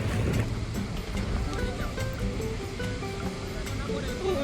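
Atlantic Ocean waves wash onto a cold Moroccan shore in a continuous loud roar of surf, with a faint tonal sound drifting through the rush of water.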